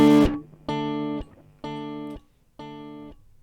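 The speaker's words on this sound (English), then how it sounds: "what you heard was one very overdriven signal and then a whole bunch of delays which had no overdrive on them whatsoever" A heavily overdriven electric guitar, run through the TH3 amp plugin in Cakewalk with clean, undistorted delays, sounds a loud chord that is followed by three repeated echoes, each sustaining and then cutting off.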